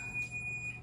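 A kitchen oven timer rings while ginger snaps bake, a steady, thin electronic beep held through the whole moment, fairly quiet and alone.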